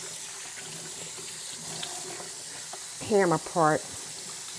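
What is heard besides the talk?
water running from a tap while washing hands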